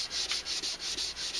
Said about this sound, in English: So I'm sanding this with number 400.